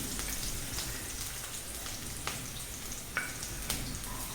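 Ginger and onion sautéing in a pan for a kappa bonda recipe produce a soft, continuous sizzle with scattered faint crackles and pops. No voices are heard.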